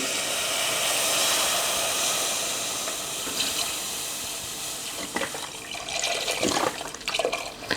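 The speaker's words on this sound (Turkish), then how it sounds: "Evet sütümü ekliyorum." Milk poured into a pan while cooking a quick Turkish milk dessert with chicken breast, a steady broadband liquid rush that continues for several seconds before breaking into splashier, uneven pours and stirring near the end.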